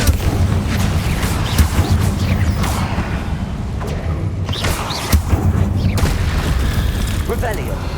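Confringo blasts go off one after another in Hogwarts Legacy, making loud booming thuds over a constant rumbling game soundscape, while a voice talks throughout.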